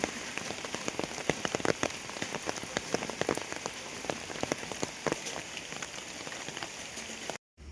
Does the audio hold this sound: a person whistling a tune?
no